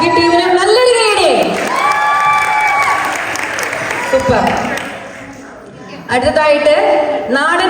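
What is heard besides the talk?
audience applause for a dance team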